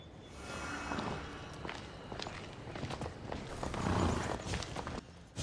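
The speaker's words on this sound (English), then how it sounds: "This horse? So long as it doesn't trample me, I'll take it to him on your behalf." Horse hooves walk at a steady plodding rhythm in Assassin's Creed Odyssey, clip-clopping for about five seconds over a dense game soundscape, briefly louder near the end.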